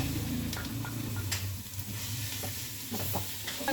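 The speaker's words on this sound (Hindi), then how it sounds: "अभी इसमें शामिल करूँगी कीमा।" Chicken mince sizzles and fries steadily in a hot pan, stirred with a few scraping strokes, a close continuous crackle with no talking.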